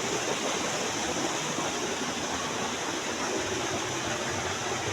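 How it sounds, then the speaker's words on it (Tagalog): Waterfalls surrounded by large trees, producing a loud, steady broadband rush of falling water that continues unbroken and close by throughout. "ang gaganda talaga mga falls dito"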